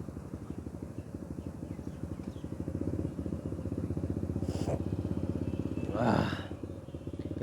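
A motorcycle engine runs with the clutch pulled in, a steady close rapid thumping idle with a brief rev near the end, on a street with faint background noise.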